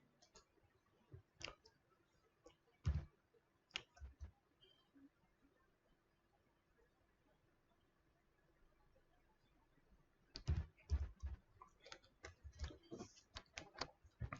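Typing on a computer keyboard during a search, scattered light key clicks in short bursts with a quiet stretch in the middle, faint and close.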